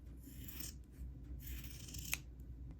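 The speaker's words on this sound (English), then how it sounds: "and now we want to cut this sock." Scissors snip through a sock in short bursts of cutting, fairly close and quiet, with a sharp click near the end.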